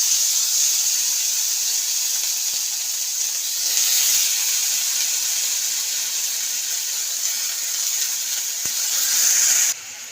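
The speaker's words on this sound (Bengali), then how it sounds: "এবার আমি আলু বেগুনটা দিয়ে দিলাম।" Potatoes and eggplant fry in hot oil with dried chili and panch phoron, giving a steady, close sizzling hiss that holds evenly throughout with a few faint clicks and no speech.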